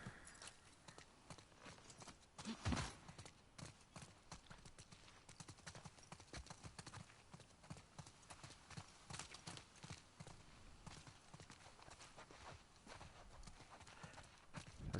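Horse hooves clip-clop at a steady walking pace in the video game The Last of Us Part II, fairly faint and muffled under a noisy, crackly background.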